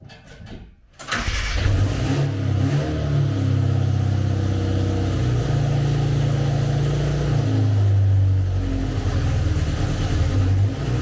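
A car engine starts and settles into a loud, rumbling idle with a deep, throaty exhaust, steady and close, before its exhaust resonator is replaced.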